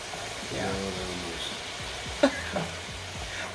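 Taco meat frying in oil in a pan gives a steady, close sizzle with stirring scrapes, one sharp clank near the middle and a muffled voice in the background.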